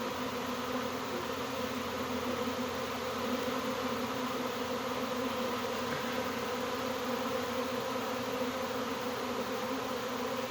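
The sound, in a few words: massive honey bee swarm buzzing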